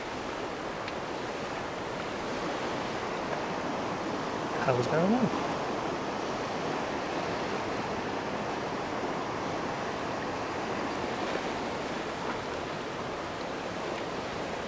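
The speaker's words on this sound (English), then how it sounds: "This water's moving insanely fast." Fast-moving water rushes steadily in Munich, a dense broadband roar that stays constant and fairly close, with a man's brief exclamation over it partway through.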